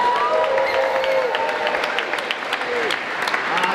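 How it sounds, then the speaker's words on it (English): Applause and light cheering from the audience at a Tulsi Gabbard town hall in San Francisco, a steady roomful of clapping with a few voices rising over it. "so give her a round of applause."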